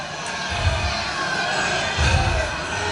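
A crowd murmurs and stirs in a staged radio drama of The Day the Earth Stood Still, a steady hubbub with two low rumbling swells, no clear words.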